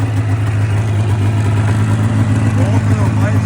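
The engine of a Polaris 550 RMK snowmobile runs steadily at a close, loud, even drone while someone talks over it.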